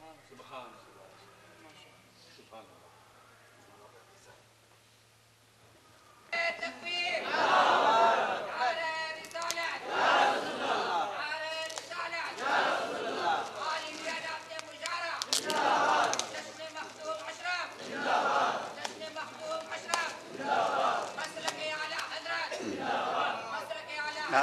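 A crowd at an Urs commemoration for Makhdoom Ashraf chants slogans during a book unveiling ceremony. After a few quiet seconds, loud massed voices erupt in repeated rhythmic call-and-response bursts.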